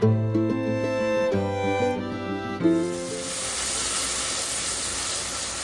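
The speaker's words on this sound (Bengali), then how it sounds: "এখন ফুলকপি, সিম, আলু, টমেটো এগুলো দিয়ে আর কি একটা ঝোল রান্না করতেছি" Vegetable curry of cauliflower, beans, potato and tomato sizzles and hisses steadily in the pan, a broad close frying sound that swells after some faint tonal background noise at the start.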